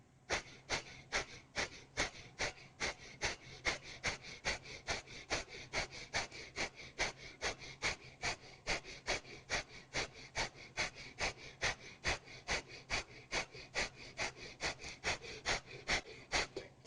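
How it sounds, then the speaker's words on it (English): Rapid, rhythmic breath of fire yoga breathing, dozens of sharp forceful nasal exhalations pumping at an even pace, close and steady for the whole stretch under a faint low hum. "continuing with breath of fire."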